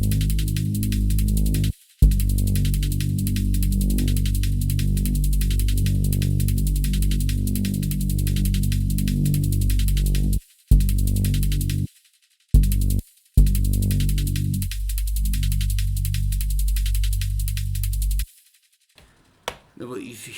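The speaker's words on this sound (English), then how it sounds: "What you hear there is the binaural beat." A sustained synth drone note hums low and steady, its stacked tones pulsing gently as a binaural beat, interrupted by a few short gaps and fading out near the end alongside a bright hiss.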